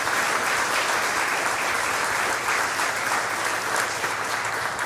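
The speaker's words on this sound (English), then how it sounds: "Let's give them a round of applause for their dedication to the chamber." Dense, steady audience applause fills a hall at the 2019 Clayton Chamber of Commerce Community Awards, sustained and loud from start to finish without letting up.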